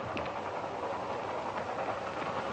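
A train in a Wild West movie rolls around a bend, a steady, muffled rumble of rail cars at moderate distance that holds evenly with no voices.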